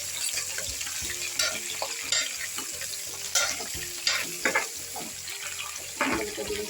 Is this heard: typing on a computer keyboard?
no